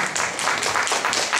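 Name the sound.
audience applause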